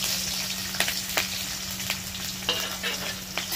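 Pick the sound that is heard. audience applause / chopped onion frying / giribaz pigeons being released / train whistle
chopped onion frying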